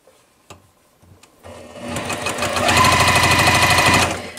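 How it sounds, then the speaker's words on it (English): A sewing machine stitches fabric pieces into a log cabin improv quilt block. A few soft clicks come first, then the motor starts and settles into a close, steady, fast run of stitching that stops at the end. "I'm going to line my dark right up to the side edges of my previous piece and sew this one down."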